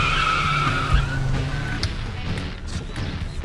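A car pulls in through a gate at a house, its engine running loud and close with a rising tonal whine and tire noise, then settling to a steadier rumble.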